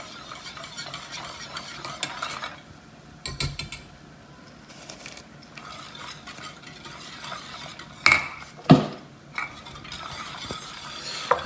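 Milk with sugar being stirred slowly in a pot over a medium flame, heard as soft scraping and swirling with a few louder clinks and scrapes near the end, no talking.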